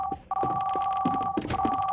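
Telephone tone in a Roblox horror game: a steady electronic ring tone holds under short bursts of dial-like beeps and clicks, fairly faint.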